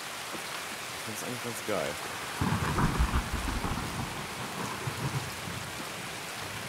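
Heavy rain and thunder in the video game Escape from Tarkov: a continuous dense downpour hiss with a deep rolling thunder rumble swelling midway, while someone talks briefly over it.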